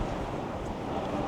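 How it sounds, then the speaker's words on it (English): Wind blows hard outdoors and buffets the microphone, giving a loud continuous low rumbling roar with no voices. "Also so windy up here."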